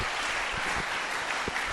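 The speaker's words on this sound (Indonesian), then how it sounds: "Berikan dulu tepuk tangan bagi Tuhan kita." A church congregation at a Christmas youth service applauds, a dense, even wash of many hands clapping together for a brief moment, steady and moderately loud.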